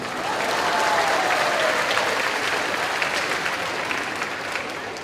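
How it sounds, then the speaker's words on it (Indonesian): Audience applause fills a hall during a family recollection talk, steady dense clapping from a large crowd that holds at a constant level for the whole stretch, with no voices over it. "Tepuk tangan untuk wanita."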